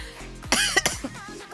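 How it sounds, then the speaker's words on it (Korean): Harsh coughing from someone with a summer cold, a couple of close, loud bursts followed by a shorter throat-clearing cough, with no talk. "지금 기침만 안 나면 괜찮은데 기침이 진짜 거의 8할을 차지하고 있기 때문에"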